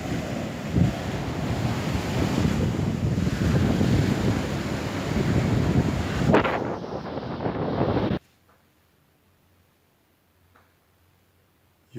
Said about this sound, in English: when you're on the beach, just watching the waves